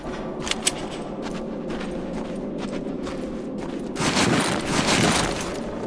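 Gunfire in the video game Rage, a dense stream of rapid shots and clatter over constant background noise, growing louder and fuller toward the end.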